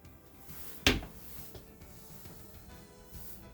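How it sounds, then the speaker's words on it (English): A soft-close cabinet door with magnetic latches in a custom toy hauler, one sharp thud as it shuts near the start, followed by quieter faint knocks and handling noise. "These doors are soft close"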